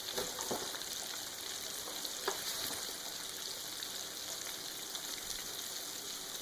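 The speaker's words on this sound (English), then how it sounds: "I have 6 chicken wings I'm going to fry." Continuous crackling sizzle of six chicken wings frying in hot oil in a skillet, with scattered pops, steady and close, no talking.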